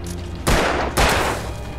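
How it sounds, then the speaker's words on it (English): Two loud, close gunshots ring out about half a second apart, each a sharp blast with a ringing tail, from a scripted scene where a man counts off his eight shots at someone with a busted leg. "Yep, 8. 8 shots."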